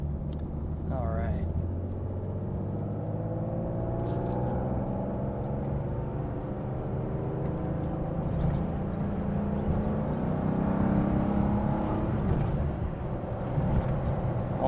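A 1971 Porsche 911T Targa with a 4-speed pulls off a shop's front drive in Bon Aqua, its engine a steady, low rumble rising through the gears, heard from inside the car.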